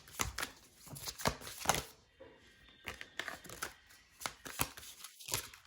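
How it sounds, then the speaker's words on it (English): Tarot cards being shuffled up close, quick bursts of riffling and flicking that come in irregular clusters with short pauses between. "So as I'm shuffling the cards"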